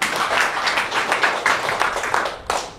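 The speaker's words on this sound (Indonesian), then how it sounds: "Berikan sorak-sorai buat Tuhan" A church congregation cheers for God, answering with a fairly quiet wash of clapping and scattered cheering that holds steady for a few seconds, heard from within the room.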